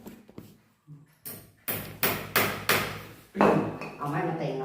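A hammer strikes nails into a concrete block, with about six sharp, separate blows landing close by in an uneven rhythm, followed by a rougher scraping stretch.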